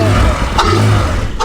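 A car engine with a stock exhaust revs steadily and loud, close by, with a brief sharp exclamation partway through and another at the end.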